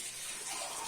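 A little water pours into a cooking pan for a traditional Pakistani dish, a brief, steady gushing splash at low volume with no talk over it.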